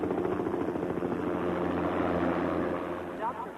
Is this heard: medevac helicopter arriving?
yes